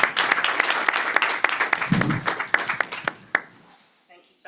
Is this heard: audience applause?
yes